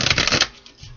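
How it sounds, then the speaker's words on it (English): A quick riffle of tarot cards being shuffled, a close crisp flutter lasting under half a second before trailing off into quiet. "Two more shuffles."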